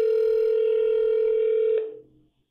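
A steady telephone ringback tone sounds as an automated AI agent's phone call connects, holding evenly at moderate loudness before cutting off and fading near the end, with no voices over it.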